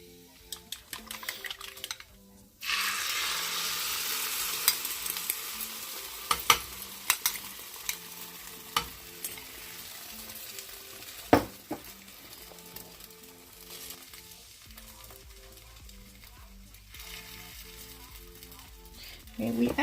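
Thin potato chips are stirred in a hot pan for potato and egg breakfast tacos, giving a steady sizzle with scattered scraping clicks from the utensil. The frying starts after a quieter opening and runs on without talk.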